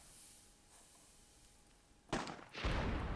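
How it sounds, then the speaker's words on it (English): Cannon fire from a World War II match in the strategy game Myth II: Soulblighter, two heavy booming blasts landing close together near the end after a quieter stretch of battle ambience. "Again, Scratch and Dusk East on the cannons"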